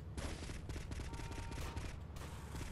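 Rapid gunfire from GTA Vice City Remastered comes in a dense run of quick repeated shots, fairly faint and distant, with no talking over it.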